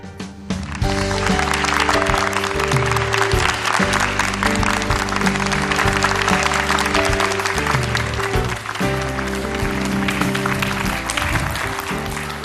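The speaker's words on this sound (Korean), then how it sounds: "오늘따라 박수 소리가 긴 것 같습니다." Long, sustained applause from a studio audience at a humanities lecture hall, loud and dense throughout, with steady tonal music or organ-like tones running underneath.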